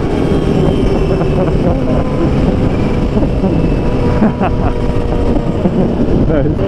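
Loud, steady engine roar of a Ferrari F430 running alongside a modded Kawasaki H2 motorcycle, a dense continuous drone close by with wind rush and a voice speaking over it.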